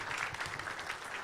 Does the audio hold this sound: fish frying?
no